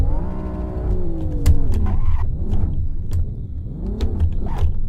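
A BMW M3 engine in the racing game Assetto Corsa, heard from the cockpit, drones steadily and rises and falls in pitch through several rev swells, with a few sharp clicks over the continuous rumble.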